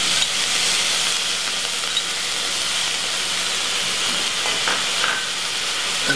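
Vinaigrette hitting a hot enameled pan while cooking a cornbread catfish salad, giving a steady, loud broadband sizzle and hiss that holds evenly throughout with slight crackles, no talking.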